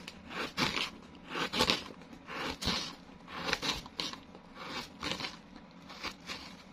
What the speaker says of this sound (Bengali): আমি পেয়ারাটাকে ছোট ছোট টুকরা করে কেটে নেব।